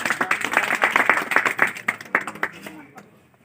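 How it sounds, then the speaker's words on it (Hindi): An audience at a meeting for people with disabilities bursts into a brisk round of hand clapping that runs for about three seconds and then tapers off quickly. "श्रीमती रीशा देवी के नाम से तालियां बजाएंगे।"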